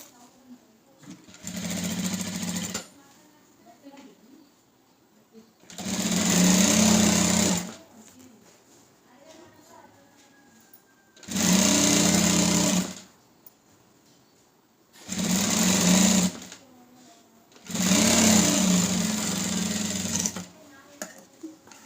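Sewing machine stitching a blouse lining in five separate bursts of loud whirring stitching a few seconds each, with pauses between where someone speaks.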